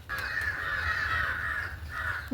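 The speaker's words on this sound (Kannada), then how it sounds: "ಕಾಗೆಗಳು ಇಷ್ಟನ್ನು ಕೂಗ್ತವೆ." Crows caw repeatedly nearby, harsh drawn-out calls overlapping in a steady chorus against a low background rumble.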